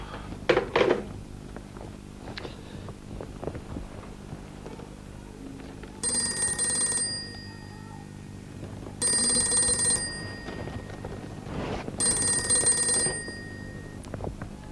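A telephone rings in a Pakistani television drama, three distinct ringing bursts of about a second each at steady intervals, fairly close and clear over a quiet room background.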